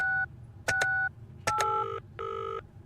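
A phone number is punched in within a video game, with four clear bursts of keypad tones in an uneven rhythm, each a short chord of beeps separated by brief gaps, moderately loud and without voices.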